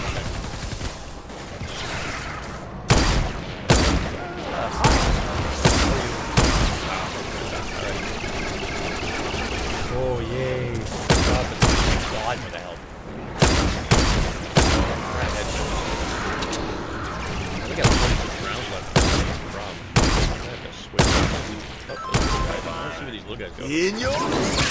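Repeated bursts of gunfire from base defenses shooting husks in Fortnite Save the World, loud clustered shots recurring throughout under intermittent talk from a player.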